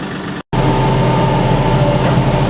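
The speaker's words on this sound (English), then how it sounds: "the mower seems to be working pretty good" A riding lawn mower runs loud and close with a steady, heavy engine drone, broken by a brief cutout near the start.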